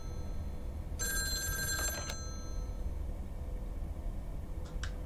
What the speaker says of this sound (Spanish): Ven al teléfono.